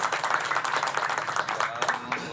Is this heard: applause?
yes